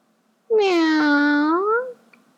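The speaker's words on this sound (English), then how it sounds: ""Meow," said the kitten." A kitten gives one clear, drawn-out meow lasting over a second, close and loud against quiet surroundings.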